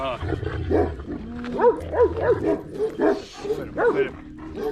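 Several large dogs in Denizli, Turkey bark and yip in quick bursts, fairly close, with whimpering tones between barks and a low hum underneath.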